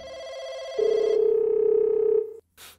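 A phone rings loud and close with a steady electronic tone that shifts pitch partway through, then cuts off suddenly and leaves a short faint noise afterward. No one speaks.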